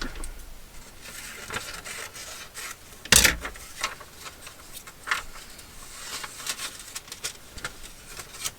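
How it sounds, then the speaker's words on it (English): A paper CD envelope is trimmed by hand, producing soft rubbing and rasping cuts with one sharp snip partway through, up close and without talk. "let's just trim it a little bit."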